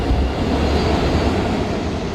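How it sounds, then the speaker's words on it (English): A train passes close by, a loud continuous low rumble and rolling rail noise sustained throughout with no break, no voices present. "Here comes a train, I'll just wait for it."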